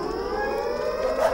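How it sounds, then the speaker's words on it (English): A siren from a scary 3D animation gives a steady, loud, wailing drone, with its pitch slowly rising and swelling toward the end. "always follow the dogs if you hear a siren like that"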